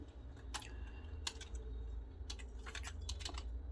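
Typing on a computer keyboard while entering text into an MS Word document, with irregular bursts of close, crisp key clicks over a steady low background hum, and no talking.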